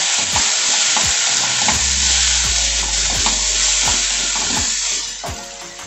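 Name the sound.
stirring spices into gravy in a pan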